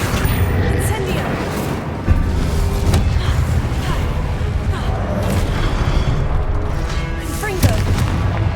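Incendio fire spells burst repeatedly in Hogwarts Legacy, making loud, dense booms and blasts that roll one into another through a busy, continuous combat din.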